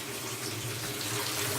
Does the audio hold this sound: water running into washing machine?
yes